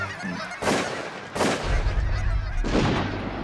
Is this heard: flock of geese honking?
yes